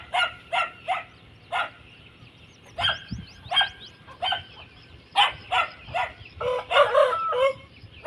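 A pure Punjabi Aseel rooster crows among a flurry of short, sharp, repeated calls from nearby fowl, the bursts coming in quick uneven clusters, fairly close and moderately loud.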